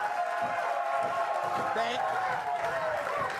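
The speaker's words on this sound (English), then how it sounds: "Crowd's wild tonight" A live studio audience at a late-night comedy talk show cheers and claps steadily, a dense continuous roar with whoops, while voices talk over it.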